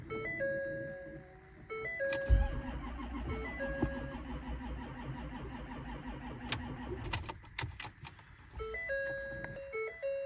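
A diesel truck with weak batteries cranks and tries to start in freezing weather, a brief engine burst near the start followed by uneven engine rumble mixed with steady electronic chime tones.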